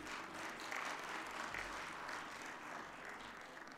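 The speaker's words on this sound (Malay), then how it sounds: "Berikan tepukan kepada YB Menteri." Hall audience applauding a Malaysian youth and sports minister at a formal event, a steady wash of many hands clapping, distant and fairly faint, continuous for several seconds without speech.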